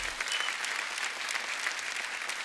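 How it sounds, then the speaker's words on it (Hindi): Sustained applause from a large TV studio audience on a comedy show, steady and fairly loud throughout with dense clapping and no voices. "तो आप सबकी जोरदार तालियों के बीच please welcome very handsome Ayush Sharma"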